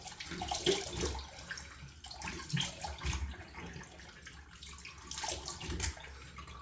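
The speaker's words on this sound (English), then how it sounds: "I'm going to rinse the face with hot water." Running hot tap water splashes continuously into a basin as a face is rinsed, with small surges as hands move through the stream, nearby and without talking.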